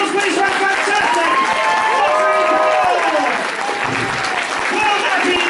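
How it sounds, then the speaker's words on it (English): Loud, dense applause and cheering from a Doctor Who Q&A panel audience at EM-Con Nottingham 2018, a sustained roar of clapping and crowd voices filling the room without a break. "we'll all be up and standing and cheering. A round of applause, please."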